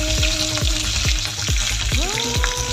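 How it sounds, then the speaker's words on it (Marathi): Garlic, onion, green chilies, tomato and radish roast in a pan over low heat for radish chutney, giving a steady close sizzle broken by repeated short scraping stirs of a spatula. "हे सर्व मंद आचेवर भाजून घ्यायचं."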